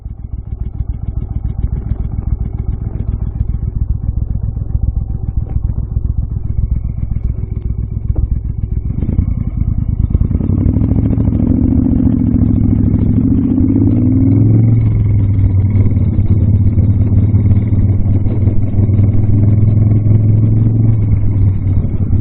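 A motorcycle engine runs steadily throughout a short ride on a gravel country road in Eastern Ontario, a continuous loud low rumble that deepens and swells partway through as it pulls harder, with no talking.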